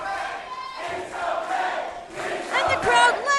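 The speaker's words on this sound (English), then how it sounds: "And the crowd letting Takeshita know that it's okay" A wrestling crowd at a live match cheers and chants in loud, surging waves, building again near the end, with no one speaking over it.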